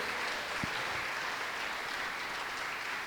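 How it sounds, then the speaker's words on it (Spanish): A church congregation applauding steadily and continuously, a dense, even wash of many hands clapping that fills the whole moment without pause, fairly distant. "Yo te invito a que le des un fuerte aplauso al Señor"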